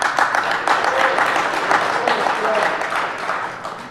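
Audience applause at a DEF CON 20 awards ceremony, a steady wash of many hands clapping that holds throughout and tapers slightly at the end, with a voice speaking over it.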